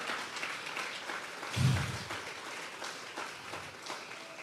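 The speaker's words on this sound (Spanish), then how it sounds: "Le vamos a regalar ofrenda de palmas al Dios de la gloria." A church congregation at a Sunday service gives a round of applause, soft and somewhat distant, with a brief low thump partway through.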